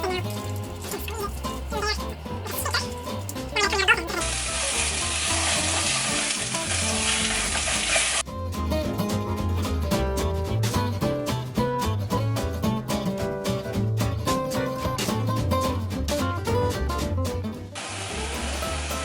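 Sausage fries in heated olive oil with a steady close sizzle, joined by intermittent clatter and movement and a burst of harsher hissing partway through.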